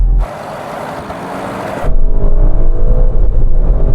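A BMW M5, Audi RS6 Avant and Mercedes-AMG GT63 launch off the line in a drag race, a sudden loud engine roar that swells from a hiss into a deep, sustained rumble close by.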